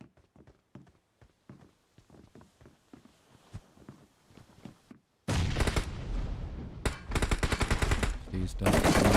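PUBG Mobile gunfire during a tournament match: sparse single shots and short bursts at first, then a loud, dense run of rapid automatic fire with brief pauses, close and overwhelming.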